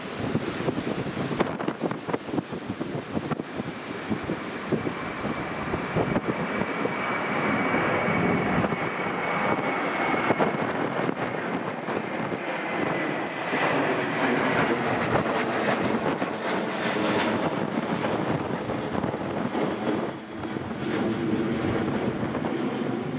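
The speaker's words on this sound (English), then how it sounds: "That's the Ryanair that's just landed." Steady roar of storm wind buffeting the microphone at Newcastle International Airport during Storm Otto, with the rumble of a Ryanair airliner landing blended into the continuous gusty noise.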